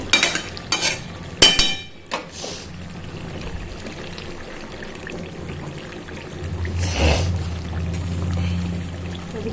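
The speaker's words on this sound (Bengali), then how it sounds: "এবার আমি জল দিয়ে দেবো গরম জলই দেবো" Hot water is poured into chicken curry frying in a pan, producing a burst of hissing and splashing with some stirring and clatter, then a steady close sizzle as the liquid settles.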